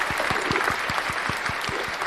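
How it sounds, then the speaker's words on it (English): A small group on a game-show set claps in a brisk, regular rhythm, with each clap sharp and close. The beat holds evenly for about two seconds. "Everybody give him a round of applause."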